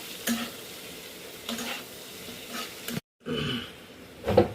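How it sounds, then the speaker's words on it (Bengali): Egg mixture for chowmein stirred in a hot pan, giving a steady sizzle broken by rhythmic scraping strokes, a brief pause, then more vigorous stirring ending in a loud clatter. "এবার এটাকে পুরোপুরি আমরা ভালো করে মিক্স করে নেবো।"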